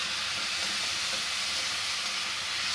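Onion sizzles in a pan for poha, a flattened-rice dish, as a constant, even frying hiss with no pauses over a few seconds.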